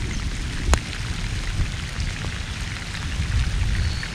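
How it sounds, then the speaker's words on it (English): Steady rain falls at a lake or pond during a fishing trip, a dense even patter close by, with one sharp knock early on and no voices. "it's a little rainy out here"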